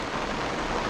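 Heavy rain bucketing down at a muddy race meeting at Mt. Beauty, a dense, continuous hiss of drops pounding the surface, loud and unbroken for under a second.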